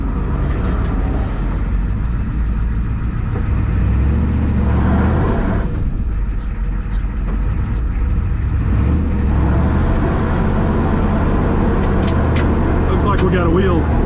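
A church bus engine rumbles steadily while the bus tries to reverse with a wheel hung up, loud and close throughout, with people talking over it.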